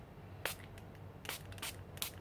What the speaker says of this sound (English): This is black, and I'm just spraying it.